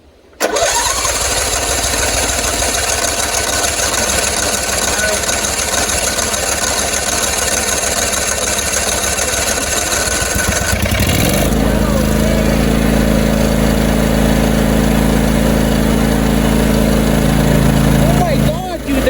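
A John Deere LT166 lawn tractor in need of repair cranks and starts, then settles into a steady, loud idle that runs close up to the end. A voice is briefly heard early on.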